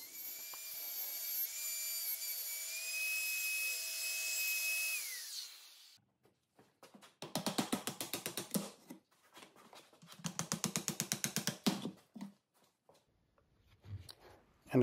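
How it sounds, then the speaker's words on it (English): Router fitted with a half inch mortising bit and half inch guide bushing cutting wood for a bow tie inlay, heard as loud bursts of rapid buzzing cuts after a steady high motor whine, alone without talk. "For this cut, we're going to be using a half inch mortising bit with a half inch guide bushing."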